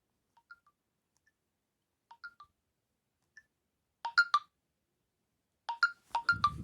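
Huawei phone ringtone, playing as short bright plinking tones in sparse groups, quiet and alone, with a soft rustle at the very end.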